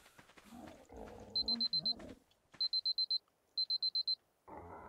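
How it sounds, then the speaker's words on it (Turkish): Electronic alarm in ARK Survival Evolved sounding in three bursts of rapid high beeps, each a quick string of four or five pulses, with low game rumble and creature noises between them. "Bu alarm."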